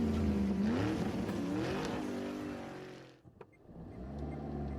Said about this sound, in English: You hear what is actually the sound of a turbo as the car kicks off into high gear.